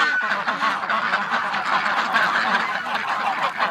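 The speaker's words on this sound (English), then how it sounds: "And I'm being told by the ducks they want out." A pen of ducks quacking insistently, a dense chorus of overlapping quacks and honks, close and loud, continuing without pause.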